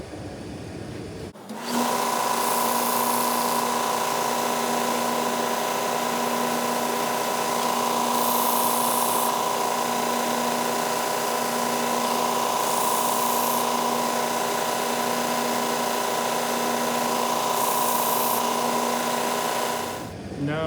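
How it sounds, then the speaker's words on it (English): A power sander runs steadily on a small wooden gumball machine bridge, a continuous whining hum held for about twenty seconds with faint periodic scraping as the piece is sanded square. "I'm just going to sand it square, test it, sand a little more off, test it."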